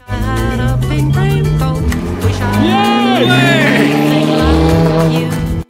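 Old Ferrari engine accelerating hard through the gears, a loud revving whine rising in pitch between shifts, with people talking over it.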